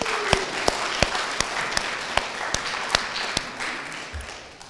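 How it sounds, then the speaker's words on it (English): An audience applauds at an Optimist Club oratorical contest, a steady wash of clapping punctuated by regular loud, sharp claps from one nearby pair of hands, tapering off at the end. "That definitely deserves some applause."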